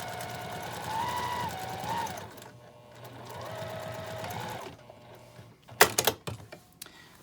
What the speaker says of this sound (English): I just top stitch it with the 1/8 of an inch seam.